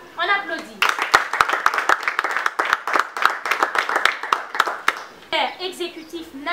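An audience at a foundation ceremony claps in a burst of scattered, overlapping claps lasting several seconds, with a voice speaking over the start and end.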